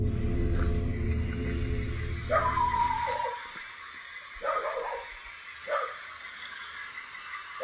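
A dog barks and gives yipping whimpers in a few close bursts, then goes quiet; heavy low rumble fills the opening seconds before it fades into near silence between calls.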